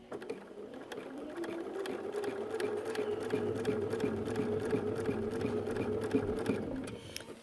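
Sewing machine stitching a quilt ruler block, a steady, fast mechanical whirring and needle chatter running continuously for several seconds, close and moderately loud, with no talk.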